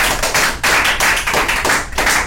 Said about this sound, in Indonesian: Tepuk tangan dulu buat Rahmat.